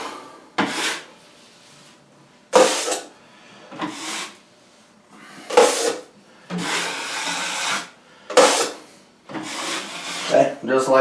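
A drywall knife scrapes down joint compound over a patched hole, several separate drawn-out rasping strokes spaced a second or two apart, close up, with someone talking between them.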